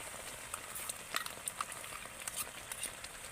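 Spice paste of cashew, mustard seed, fennel and sour yogurt frying in a pan for prawn malai curry, giving a soft, faint sizzle with scattered light crackles and stirring scrapes throughout.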